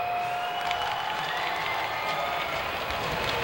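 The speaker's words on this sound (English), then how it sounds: "And it gets a reaction out of the crowd." A hockey arena crowd reacts to a fight on the ice with a continuous roar of cheering and clapping, heard as a dense, even wash of noise from many people, steady throughout with no one speaking nearby.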